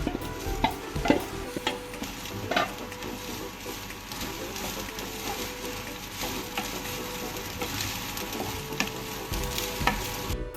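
Cracked wheat stirred into a fried mixture in a pan for upma, a constant low sizzle with frequent light scraping and clinking strokes of the spoon throughout, no voices.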